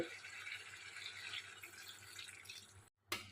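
Water poured into a pan of chicken cooking in spiced masala oil for dhaniya chicken: a steady, close splashing pour that runs on, breaks off briefly, then resumes.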